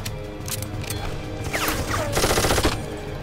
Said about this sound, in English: you shoot me with the turret all you want